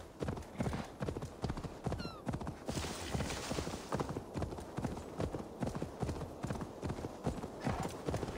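Steady, rhythmic hoofbeats of a galloping horse ridden cross-country in Assassin's Creed: Valhalla, close and continuous, with a brief whinny early on and no talk.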